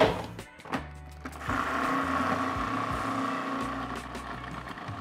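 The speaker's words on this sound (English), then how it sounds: "as you grind this, what's gonna happen is as the peanuts break down, they're gonna release some of their oil" A blender or food processor grinds peanuts into a thick dough for homemade Butterfinger candy, starting with a few short pulses and then settling into a steady, strained motor whir.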